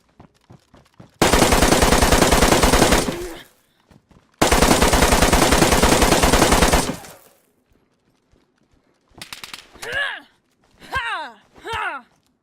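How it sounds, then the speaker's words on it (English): Two long sustained bursts of rapid automatic gunfire from the video game DayZ, each roughly two seconds, loud and close, followed by quieter clipped sounds and brief vocal bits near the end. "I was shooting ghost bullets."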